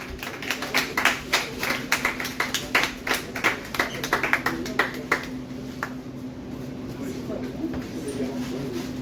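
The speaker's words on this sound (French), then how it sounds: "Une bonne main d'applaudissement pour Sylvie Côté au cabaret Dada" A small audience at a Cabaret Dada poetry evening claps, giving a run of distinct, fairly close claps that thin out and stop after about five seconds, with voices speaking alongside.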